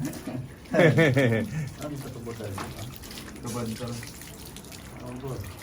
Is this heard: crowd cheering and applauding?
no